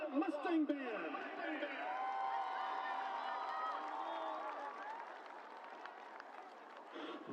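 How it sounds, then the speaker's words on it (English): A crowd applauding the Mustang marching band at a high school football game, a sustained wash of clapping and scattered cheers from a distance, with a voice briefly over it at the start. "How about another round of applause for that Mustang Band?"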